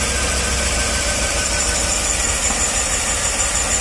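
A Chevrolet Tahoe engine idling after a spark plug replacement while being checked for misfire, giving a steady, continuous mechanical hum with broadband noise and no speech.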